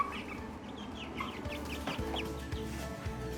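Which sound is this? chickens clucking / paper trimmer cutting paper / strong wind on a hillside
chickens clucking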